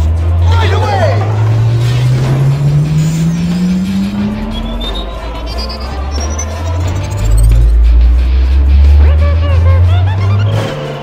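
An electric car driving in GTA 5, with rising whirring motor tones that climb, drop and climb again, plus tire squeals and scattered voices in the background.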